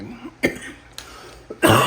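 Several harsh coughs and throat clearing from a person with bronchitis, sounding close and loud in short bursts separated by quiet pauses, with no talking.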